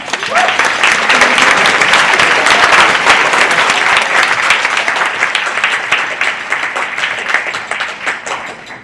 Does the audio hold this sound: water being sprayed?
no